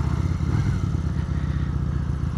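A Benda Napoleon Bob 250 motorcycle engine rumbles steadily while riding, a loud, close, continuous low throb with a slight clattering texture and no voices.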